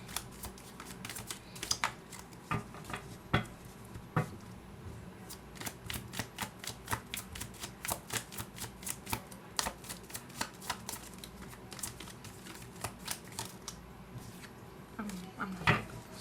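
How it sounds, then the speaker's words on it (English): Tarot cards being shuffled during a Leo monthly reading, a steady run of soft papery taps and flicks repeating for many seconds, faint and close. "I'm in a very energetic mood all of a sudden when I was shuffling this card"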